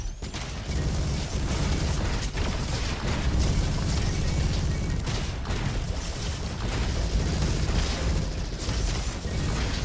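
Rhino LMG fire in the video game Roboquest, with its shots setting off explosions: a dense, loud run of gunfire and booming blasts that continues without a break for about ten seconds, with no talk.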